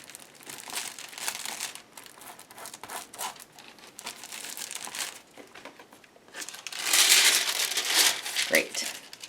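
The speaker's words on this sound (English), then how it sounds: "This is well-loved transfer foil, so a lot of it has been used, which I love that because then it's not real thick. Sunny side up. Put the foil down on the page." Thin, well-used transfer foil crinkles as it is handled and laid down on a fabric page, giving steady close rustling that grows louder and busier toward the end.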